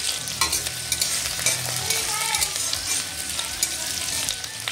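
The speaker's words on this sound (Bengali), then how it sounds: "কড়াইতে আমি দিয়েছি সর্ষের তেল আর ফোড়নে দিচ্ছি জিরে। এবারে একে একে দিয়ে দিচ্ছি পেঁয়াজ কুচি আর কাঁচা লঙ্কা কুচি" Chopped onion and green chili frying in mustard oil with cumin in a wok, a steady close sizzle broken by stirring scrapes and clinks throughout.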